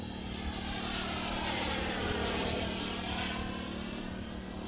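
An HSD Jets Super Viper model jet flies by at a distance, its turbine giving a steady whine with a slowly falling high tone, with no voices.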